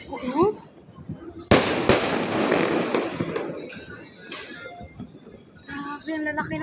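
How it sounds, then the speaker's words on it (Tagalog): New Year fireworks bursting outdoors: a sharp loud boom followed by several crackling pops and a lingering rumble, with people's voices chattering before and after. "Grabe, ang lalaki ng fireworks na."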